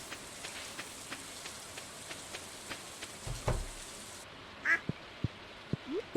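A duck in the Stardew Valley video game quacks a few times near the end, over a steady patter of game rain and light ticking sounds.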